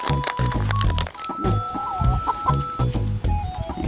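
Several hens clucking close by in a continuous, busy chorus of short calls, with a voice faintly speaking nearby.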